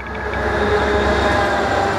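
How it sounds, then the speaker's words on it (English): A Bombardier-built train rolls into a station in San Francisco with a loud, sustained rumble and rising wheel noise close by, with no voices. "here comes your train right now. There's a train for you guys."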